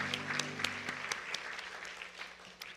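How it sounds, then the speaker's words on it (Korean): A church congregation claps steadily for a few seconds in encouragement during a Sunday worship service, a dense and fairly quiet patter of many hands filling a large room, with a low sustained tone beneath at first. "다시 한번 격려의 박수 한번 부탁드리겠습니다."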